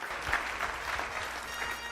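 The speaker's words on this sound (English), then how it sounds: "one more round of applause for our latest inductee, Troy Morrill" Applause for a Kansas Sports Hall of Fame inductee at a banquet, a soft, distant, continuous patter of many hands clapping at low level.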